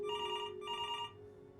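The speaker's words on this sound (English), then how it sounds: "What did your mother hear on that phone call?" A telephone rings in the video game Before Your Eyes, two clear electronic bursts of a bright ringing tone in quick succession, then falling quiet, heard alone.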